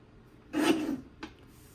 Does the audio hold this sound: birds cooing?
no